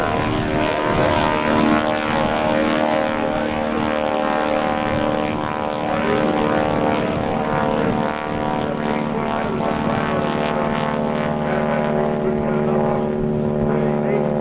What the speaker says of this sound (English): As the airplane climbs to altitude, the changes and modifications just playing a much bigger engine.